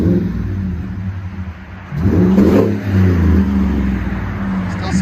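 A Chevy/GMC 6.2L V8 revs up hard from a deep, steady rumble, with one loud throttle blip swelling and falling back before the engine holds a raised, throaty drone, heard up close outdoors.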